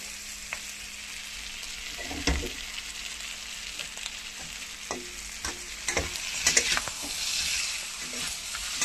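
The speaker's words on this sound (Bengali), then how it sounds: "পটলটা বানাচ্ছি কিন্তু পোস্ত আর মাছের ডিম দিয়ে।" Pointed gourd frying with poppy seeds and fish roe gives a soft, steady sizzle with occasional spatula scrapes and knocks against the pan, close but fairly quiet.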